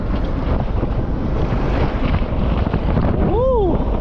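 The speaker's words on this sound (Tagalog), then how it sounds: "Sarap ng hangin." Strong wind roars and buffets the microphone during a boat ride over the water, a loud, constant rush, with a brief voice near the end.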